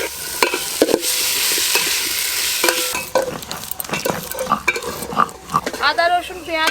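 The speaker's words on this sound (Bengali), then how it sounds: "আদা রসুন পেঁয়াজের সঙ্গে সবজিগুলো একটু হালকা করে ভেজে নিয়েছি" Vegetables frying with ginger, garlic and onion in a pan, a continuous sizzle broken by repeated scraping stirs and clinks of a spoon, growing busier toward the end.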